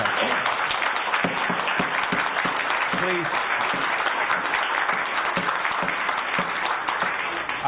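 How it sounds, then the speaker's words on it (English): Audience clapping at a city council meeting during a debate over curbside recycling, a dense steady wash of applause lasting throughout, with a voice speaking faintly underneath. "I appreciate that you're in full support, the ones that are clapping"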